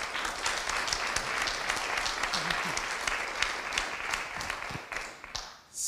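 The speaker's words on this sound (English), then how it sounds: "a round of applause for all the competitive talks of this afternoon" An audience at an academic afternoon session gives a round of applause for the competitive talks, sustained dense clapping from a crowded room that fades near the end.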